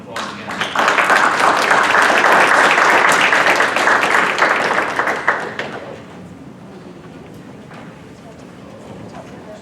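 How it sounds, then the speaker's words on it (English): Applause for the speakers at the close of a boardroom session on public health preparedness and natural disaster recovery: a dense, loud round of clapping lasting several seconds that fades out, followed by quieter room sound and talk. "let's give them all a round of applause"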